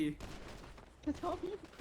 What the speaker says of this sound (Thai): มึงซ้อมยิงปืนเหรอเนี่ย